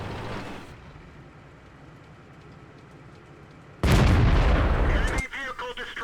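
A tank gun in a tank battle game on the Lighthouse map goes off in one loud, sudden boom that cuts in after a stretch of quiet rumbling, with a ringing tail afterward.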